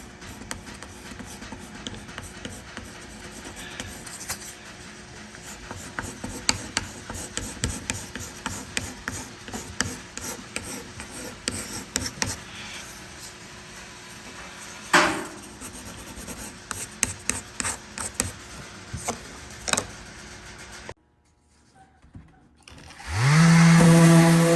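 A sawdust and shellac filler is rubbed and pushed into cracks in a wooden countertop, making a long run of close scraping, rasping strokes in an irregular rhythm, then a short silence and a louder burst at the end.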